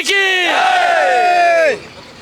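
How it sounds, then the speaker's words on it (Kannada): Crowd at a Ram temple inauguration celebration raising a loud, sustained collective shout that rises and holds for over a second before dropping off sharply, close and dominant. "ಈ ಹರ್ಷೋದ್ಗಾರ ಇಡೀ ದಿನ ನಡೀತಾ ಇರುತ್ತೆ"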